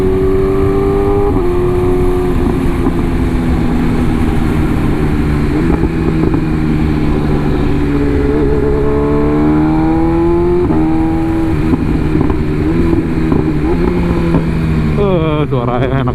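BMW S1000RR M Package motorcycle engine pulls hard through the gears up to sixth, loud and close, its pitch climbing and dropping at each shift in a steady rising rhythm, with a voice speaking briefly over it.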